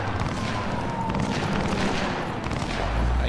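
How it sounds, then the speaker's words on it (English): Gunfire in a Cyberpunk-style video game, steady dense volleys of shots and booms running throughout at moderate loudness, with a heavier low rumble swelling near the end and no talk. "I hear guns"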